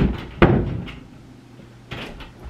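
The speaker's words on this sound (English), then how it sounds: "I'm gonna go try to shut that door, open it again" A bedroom door being shut and then opened again in a house, giving a sharp close thump followed a moment later by a softer second knock-and-creak, heard fairly close with no talking.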